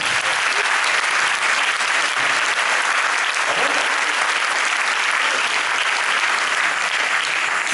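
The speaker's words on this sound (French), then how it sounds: "Je pense que vous pouvez également les applaudir." An audience applauds young musicians of a junior mass band at an event in Grande-Synthe, producing dense, loud, continuous clapping that fills the whole stretch without talk.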